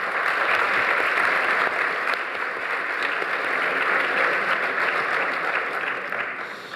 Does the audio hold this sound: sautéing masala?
no